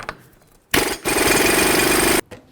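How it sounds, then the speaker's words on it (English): A power tool fitted with a 32mm socket breaks loose the axle nut on a 2009-2020 Dodge Journey: a short loud rattling burst, a brief pause, then a sustained hammering buzz of about a second and a half, with no talk. "To remove this, I'm going to use a 32mm socket."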